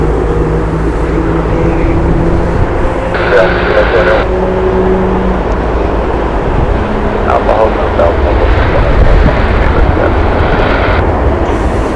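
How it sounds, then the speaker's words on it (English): A United Boeing 767 spools up its jet engines at Heathrow Airport, a loud, continuous roar with steady whining tones and a broad rumble throughout, heard from a distance with faint talk underneath. "The engines you can hear is that 767 starting up over there"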